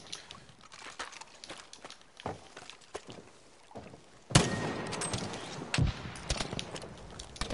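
Gunfire in a PS4 shooter game, a series of sharp, separate shots at irregular intervals, with a louder, denser burst of firing and impacts in the second half.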